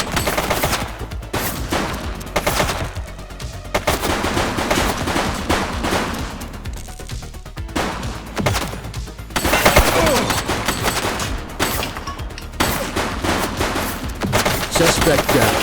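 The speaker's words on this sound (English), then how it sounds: "Shots fired!" Rapid bursts of automatic gunfire and single shots ring out in The Precinct police video game, loud and sustained in dense volleys with brief gaps, while voices call out faintly underneath.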